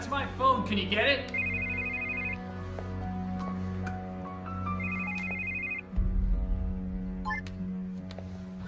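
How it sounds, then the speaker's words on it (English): A mobile phone rings indoors with a repeating electronic melody of bright beeping tones, loud and close over a low background hum, with a deeper rumbling thump near the end. "That's my phone."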